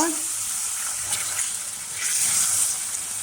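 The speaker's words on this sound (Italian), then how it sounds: "adesso dobbiamo mettere l'acqua, che friggerà ovviamente" Water poured into a hot pan while making a milk dessert sizzles and fries with a steady, loud hiss that swells slightly midway and carries on to the end.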